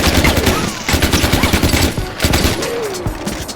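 Rapid bursts of automatic gunfire from the video game Far Cry 4, loud and close, with repeated rattling shots running almost continuously.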